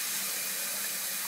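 Tap water pours into a 2-quart pasta pot in a kitchen, a continuous, even hiss of running water, faint and steady with no pauses or voices.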